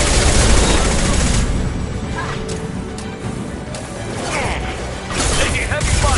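Heavy gunfire in Mass Effect 2, a loud, unbroken barrage of rapid shots and mechanical clatter over a rumbling battle din, with voices faintly mixed in.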